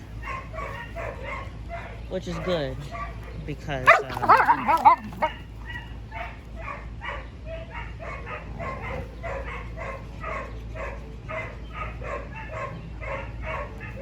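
Dogo Argentino dogs bark, yip and whimper at home, with a loud excited burst of barking partway through and a steady run of rhythmic yelps after, while a person talks over them.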